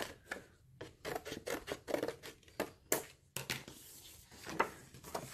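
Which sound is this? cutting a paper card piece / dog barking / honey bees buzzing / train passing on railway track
cutting a paper card piece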